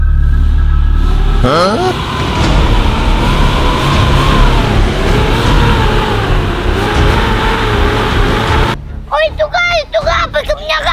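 A truck engine roars loudly and close, its pitch rising and wavering as it revs for several seconds before cutting off abruptly, followed by a short exclamation and excited voices.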